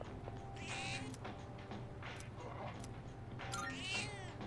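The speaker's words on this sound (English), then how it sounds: "Oh yeah, the cat." A cat meows several times in the video game Persona 3 Reload, with repeated drawn-out calls over a steady low game hum and soft mechanical creaks, without any talk.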